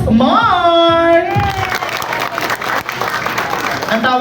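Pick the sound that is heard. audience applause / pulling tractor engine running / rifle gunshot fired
audience applause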